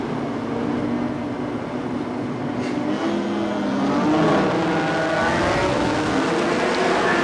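A field of twenty Group C race cars, including a rotary-engined Mazda, pulls away from the start at Amaroo Park in 1981, a loud, continuous engine roar that rises in pitch as the cars wind up through the gears.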